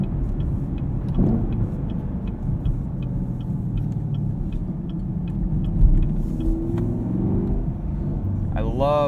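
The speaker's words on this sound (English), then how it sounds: "you can hear the engine and the induction and the scream from the exhaust out the back" A 2018 Chevrolet Camaro 2SS with a six-speed manual, driving at night: a steady low engine and exhaust rumble runs throughout, with faint ticking and a brief rise near the end.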